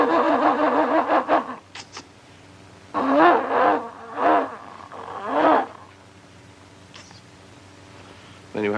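A man imitates with his voice a car with a flat battery failing to start, sputtering wavering cranking bursts separated by pauses, close and loud.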